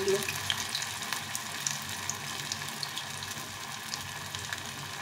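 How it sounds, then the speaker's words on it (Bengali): Chhana and capsicum tikki shallow-fry in a pan over low flame, giving a soft, even sizzle with faint scattered crackles throughout, quiet and alone without speech. "তো আমি এভাবে ভেজে নেব তিনটে, আর তিনটে সেঁকে নেব"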